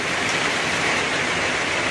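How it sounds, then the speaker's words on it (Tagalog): Heavy rain pours steadily in a dense, continuous hiss with no pauses, loud and close, with no voices. "lakas ang ulan"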